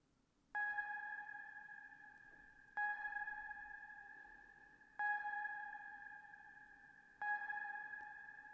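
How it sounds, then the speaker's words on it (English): A synth tone built to add urgency to a music intro pulses four times, each a clean, steady, sonar-like ping that rings and slowly fades before the next, fairly quiet and alone. "This is accompanied by a synth sound"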